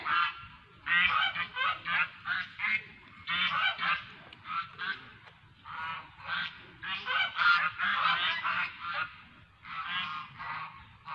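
A flock of ducks quacking and honking continuously in loud, overlapping bursts, fairly close by.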